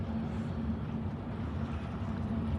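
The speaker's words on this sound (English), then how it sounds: "the engine, the propeller hitting against that ice" A deep, steady engine rumble drones continuously with rough low-frequency churning as the ship American Century's propeller grinds through ice arriving at Duluth, Minnesota harbor, with no voices.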